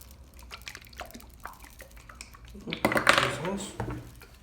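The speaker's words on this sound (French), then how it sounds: "On va agiter encore un peu." Homemade disinfectant gel being stirred in a container, with soft wet clinks and sloshing that build to a louder burst of mixing near the end, under a faint background of small drips.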